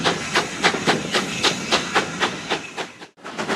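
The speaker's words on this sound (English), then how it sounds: "Definitely an uphill section, listen to that." A steam locomotive working uphill on the Churnet Valley Railway chuffs hard and steady, loud rhythmic exhaust beats in quick succession with hissing, briefly dropping out before resuming.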